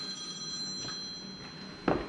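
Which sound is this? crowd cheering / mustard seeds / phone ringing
phone ringing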